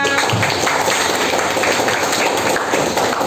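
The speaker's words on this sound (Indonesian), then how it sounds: "Ayo kelompok 5 kasih tepuk tangan." Classroom students clapping for a group about to present a physics lesson on projectile motion, a loud, busy patter of hands close by, continuous and fairly even.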